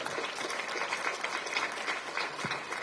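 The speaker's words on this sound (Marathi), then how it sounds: "जोरात टाळ्या वाजवा।" Loud applause from a crowd at a Marathi political rally, dense and continuous clapping sustained throughout with no pause.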